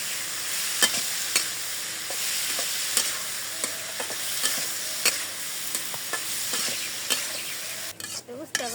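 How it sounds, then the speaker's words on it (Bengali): Bitter gourd (ustha) sizzles as it fries in a pan while a utensil stirs it with regular scraping clacks, and a short clatter comes near the end. "উস্তা দিয়ে দিলাম। নাড়াচাড়া দিয়ে দিই।"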